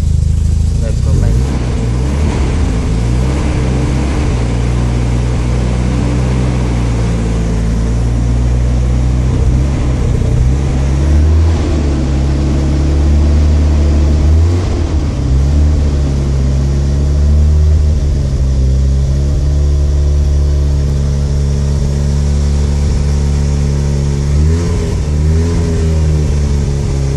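A 1988 Mazda RX-7 FC3S turbo engine with a fault idles roughly and loudly close by, its steady drone wavering and sagging as it struggles toward stalling; a person talks over it.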